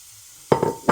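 Sliced onions dropped into hot oil in a pot for mutton biryani, a sudden loud sizzle that bursts up after a quiet moment, then flares again with stirring.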